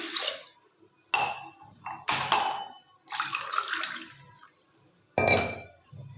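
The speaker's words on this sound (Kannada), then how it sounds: "ಇವಾಗ ನಾನು ನಾಲ್ಕು ಗ್ಲಾಸ್ ನೀರು ಹಾಕೊಂಡಿನಿ" Water poured from a glass onto washed lentils in a kitchen while cooking holige filling, arriving in several separate splashing bursts with short pauses between pours.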